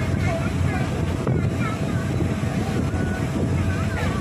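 A tourist boat cruising the Godavari river at Papikondalu produces a constant loud rumble of engine and wind across the whole stretch, with voices faintly beneath.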